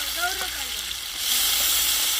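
Spice tempering crackles in hot oil over a fire at an outdoor party. The hissing sizzle swells and grows brighter midway, with a voice briefly sounding over the start.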